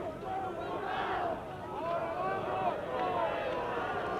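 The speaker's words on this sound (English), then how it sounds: "The crowd shouting Puma." Spectators at a 1968 rugby union match between Argentina's second XV and Wales chant and shout together in a large stadium, a loud rolling roar of massed voices with rising and falling tones, steady throughout.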